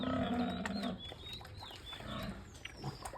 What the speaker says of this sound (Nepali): जताततै छ सुँगुर छरपस्टै छ